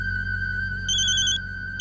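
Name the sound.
phone ringtone, incoming call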